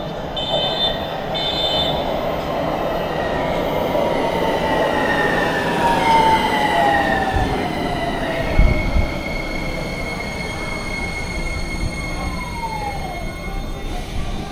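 A six-car Hitachi-built Baltimore subway train pulls in, its steady rumble joined by rising and falling wheel squeals and tonal whines as it slows, loud and close throughout with a brief thump near the end.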